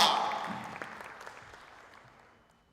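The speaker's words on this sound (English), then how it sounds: "Another big round of applause." Applause from an audience at a school awards ceremony honouring top-performing schools and matriculants, a fading tail of scattered clapping that quickly thins to a few faint claps and dies away.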